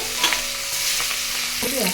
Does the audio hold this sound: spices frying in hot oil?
yes